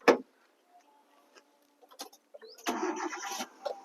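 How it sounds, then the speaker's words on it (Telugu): A 2007 Hyundai Santro petrol car cranks and catches on a single start, a few faint clicks leading into a short burst of starter whir and the engine settling into a steady idle nearby. "ఇంజిన్ అయితే స్టార్ట్ చేసినాం."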